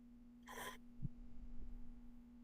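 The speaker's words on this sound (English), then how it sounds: "Breathing in as deep as you can," A single deep breath drawn in sharply, a brief airy rush close to the microphone, followed by quiet soft breath noises against a steady low hum.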